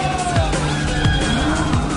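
A drift car at a Red Bull Drift Shifters event screeches its tyres while sliding to a stop, a sustained high tire squeal layered over revving engine tones, loud and close.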